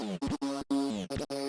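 A buzzy synth melody of sustained notes broken by short gaps, with a couple of notes diving sharply down in pitch like a tape slowing to a stop.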